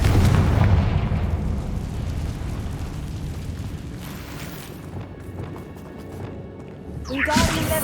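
Confringo fire spell explosion in Hogwarts Legacy, a loud, deep burst that rolls into a long rumbling decay, followed by quieter game sounds and a second sharp impact near the end.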